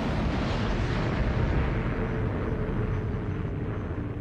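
A US atomic bomb detonation at Bikini in the Pacific, 1 March 1954, produces a deep, continuous roaring rumble that stays loud and dense throughout without a break.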